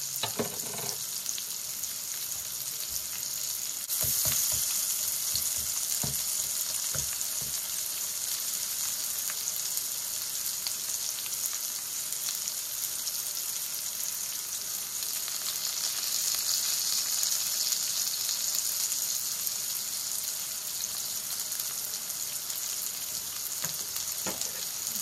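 Delicata squash slices frying in a hot pan, browning on one side, give a steady, dense sizzle that runs unbroken throughout, with a few soft clinks and stirring sounds near the start.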